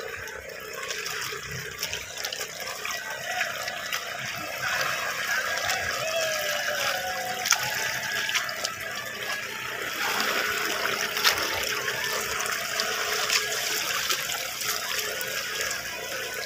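Clear spring water flows steadily at a natural spring resort in Caysubic, a continuous close trickling and splashing wash that holds at an even level throughout with no talk.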